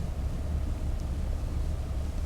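Fishing boat engine in the Fishing: North Atlantic simulator at night, a low, steady rumbling drone with a broad wash of water and wind noise, continuous and even throughout.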